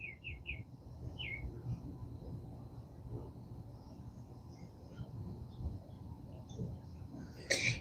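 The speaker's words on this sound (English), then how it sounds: "listening to the bird songs." Distant birds chirp in short, high calls over a low, steady rumble of background noise, in Florida.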